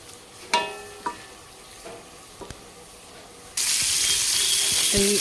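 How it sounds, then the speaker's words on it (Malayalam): Fish fries in sunflower oil for a biryani: a few clinks and scrapes of a utensil against the pan come first, then a loud, steady sizzle starts suddenly and carries on to the end. "മീനൊന്ന് പൊരിച്ചെടുത്തിട്ട് സൺഫ്ലവർ ഓയിലാണ് വെച്ചെടുക്കുന്നത്"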